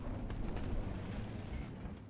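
Distant muffled booms and rumbling blasts roll under a constant low background, with a few sharper pops near the start, gunfire in the video game Battlefield 4.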